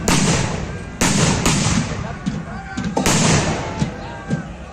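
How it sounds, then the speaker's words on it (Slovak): Muskets of four ranks fire together in a Swedish volley during a battle reenactment, sharp loud cracks followed by scattered later shots and outdoor ambience, with voices faintly beneath. "Práve ste mohli počuť tzv. Švédsku salvu, ktorá sa skladala z výstrelu všetkých muškiet, všetkých 4 radov v jednotke"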